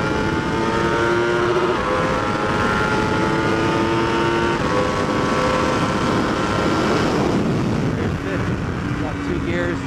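A 2015 Yamaha R1 sport motorcycle on a race track pulls in first gear, its engine droning steadily and rising in pitch, with a rider's voice talking over it.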